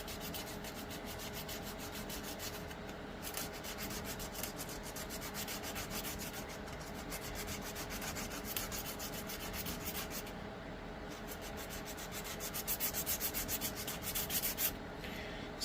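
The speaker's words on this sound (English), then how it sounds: "it's pretty much just more sanding" Steady sanding on a wooden fishing lure being shaped for old-cabin lure making, a continuous dry rubbing rasp that holds even for the whole stretch with small swells in intensity, alone with no voices.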